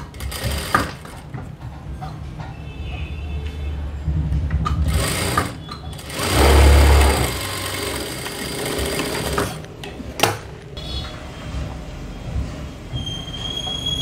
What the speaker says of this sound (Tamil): நம்ம ஃபுல்லாக ஸ்டிச் போட்டுட்டு அந்த எக்ஸ்ட்ரா பீஸை கட் பண்ணி எடுத்துடலாம்